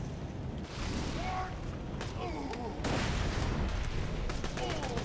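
Rapid gunfire and explosive bursts from the video game Borderlands 2 rattle through a dense, noisy firefight, with overlapping shots and booms throughout and a voice speaking over the action.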